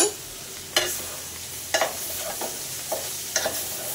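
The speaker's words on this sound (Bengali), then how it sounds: "আমি এতটুকু মরিচ দিয়ে দিলাম, দিয়ে আবার একটু নাড়া দিয়ে দিব" Bitter gourd and chili frying in a pan over a gas flame, with a few scraping stirs at irregular intervals over a steady low sizzle, close and fairly quiet.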